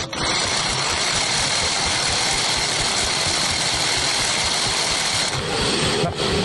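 A motorized coil winding machine winds transformer wire, giving a loud, steady mechanical whir with a continuous buzzing drone that holds unbroken, with a brief dip near the end.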